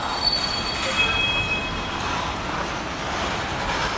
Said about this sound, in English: This train is moving northbound.